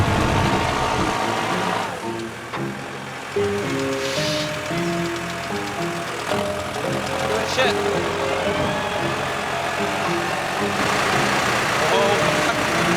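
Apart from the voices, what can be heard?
tractor engine pulling boat trailer on a beach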